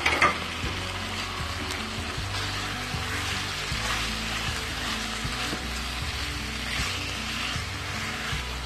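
Boiled potatoes fry in tomato masala in a pan, giving a steady, dense sizzle with soft scraping and stirring knocks throughout, no voices.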